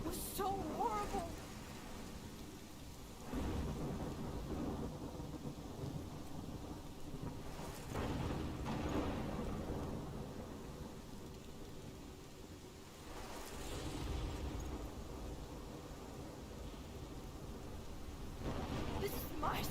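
A storm in Life Is Strange with steady heavy rain and rolling thunder that builds into several deep, booming swells, loud and close around the listener, while people talk quietly now and then.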